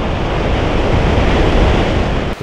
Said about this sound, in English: You can feel the ground rumble here a little bit as that water smashes against the rocks.